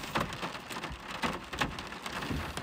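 Steady rain falls during an outdoor cherry blossom viewing, a continuous close hiss of drops with irregular louder spatters hitting nearby surfaces, no voices.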